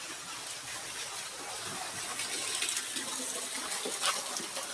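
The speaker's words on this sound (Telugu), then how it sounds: "దాని నుంచి పైన వాటర్ పడుతుంది కాబట్టి రూట్ వాటర్ ఫాల్" Water falls from hanging roots inside a cave in Cherrapunji, Meghalaya, making a steady, soft, continuous trickling patter with no talk over it.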